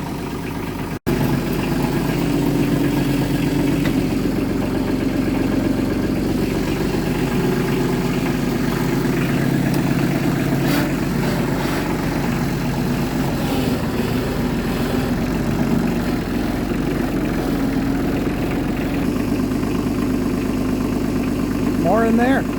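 A diesel tractor engine idles steadily after warming on its glow plugs, a loud continuous low rumble with mechanical vibration that holds even throughout, a brief voice surfacing near the end.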